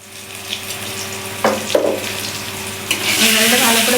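Potato pieces fry in hot oil in a pan, a steady close sizzle that swells louder partway through, with a few scrape and clatter accents and no talking.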